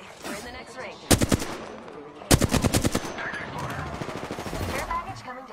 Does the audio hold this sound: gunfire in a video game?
yes